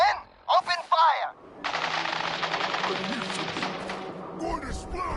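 Rapid machine-gun fire rattles continuously for several seconds in an animated battle scene, a dense burst of close shots following a brief shouted command.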